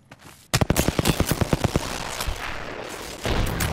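Rapid automatic gunfire rattles in Apex Legends, a close burst of about a dozen evenly spaced shots. It gives way to a rough, noisy stretch, and then more fire swells at the end.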